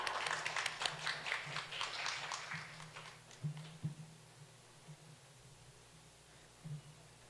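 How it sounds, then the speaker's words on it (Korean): Brief applause from a conference audience in a hall welcoming a presenter at a carbon-neutrality policy event, a light patter of clapping that fades after a few seconds, with some low hum and faint voices underneath. "큰 박수 부탁드립니다."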